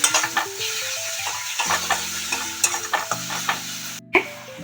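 Spices and turmeric stir-fried in a pan for pomfret curry sizzle underneath repeated close scrapes and clinks of a spoon, while a steady tonal melody plays faintly in the background.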